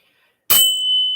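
A single meditation bell is struck once after a brief silence, giving a bright, sharp strike that settles into a clear sustained ring, loud and close.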